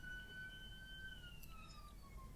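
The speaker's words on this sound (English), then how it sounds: "with the ambulance going past for that comment" An ambulance siren wails faintly in the distance, its gliding tone slowly falling in pitch as it passes, heard alone over a low background hum.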